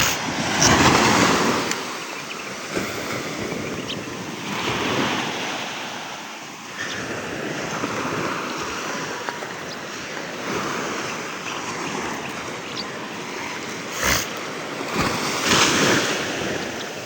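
Ocean waves at Virgin Beach in Bali break and wash in steadily under gusting wind, with a broad constant surf roar that swells and ebbs with each set.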